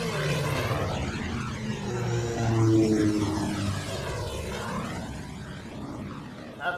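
Fanship in the anime Last Exile coming in to land, a loud droning propeller-like engine rumble with sweeping pitch changes, steady and close throughout.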